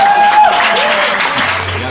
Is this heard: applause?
yes